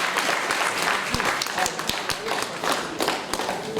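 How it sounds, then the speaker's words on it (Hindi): Loud, dense audience applause fills a stage event at an Indian Idol winner's honouring ceremony, crowd clapping continuously and close with a voice speaking over it. "एक बार अपने पापा के लिए जोरदार तालियां प्लीज।"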